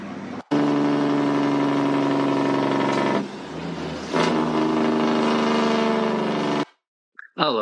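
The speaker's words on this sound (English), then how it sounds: "I love a good Jake brake" A truck's Jake brake rattles out a loud, sustained staccato engine roar lasting several seconds, dipping briefly in the middle before resuming, then cutting off abruptly.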